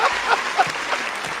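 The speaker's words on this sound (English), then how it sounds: "Let's give Mike a round of applause for his inner Denzel" An audience claps briefly for Mike, a short, moderately loud patter of hands mixed with some chatter and a bit of laughter, close and informal.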